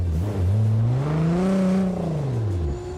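Car engine and exhaust in BeamNG during a drift event, with a throaty exhaust note that revs up, holds high, then falls away over three seconds, loud and close with no talking.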